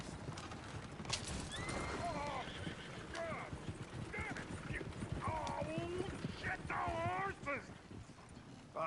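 A horse in the Red Dead Redemption 2 video game whinnies repeatedly in sharp, rising bursts over a steady clatter of hooves, with faint voices and game ambience underneath.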